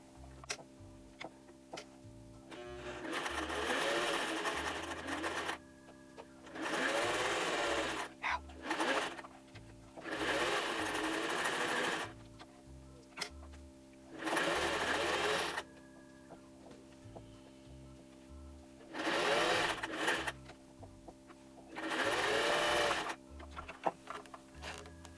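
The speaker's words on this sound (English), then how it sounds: "Now I'm going to sew around this on the edge as well." Sewing machine stitching around the edge of a toddler apron in six bursts of rapid whirring, separated by quiet pauses with soft ticking, close and clear.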